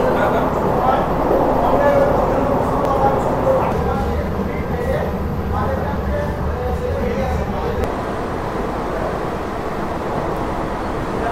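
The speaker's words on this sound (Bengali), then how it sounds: "জঙ্গলের মাঝে দিয়ে এরকম ট্রেন চলছে" An AC local train on the Sealdah–Bangaon line runs steadily through forest in cloudy weather, its continuous close rumble and rolling carriage noise filling the whole stretch while voices talk over it.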